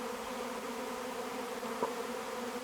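Honey bees buzz in a soft, steady drone, faint and continuous, with no voices, during hive splitting on a homestead.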